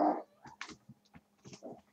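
A little puppy playing close by, giving short whimpers, yips and soft growls in quick irregular bursts with brief pauses between them.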